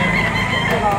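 A rooster crows at a gamefowl auction market, a short loud call mixed with nearby voices.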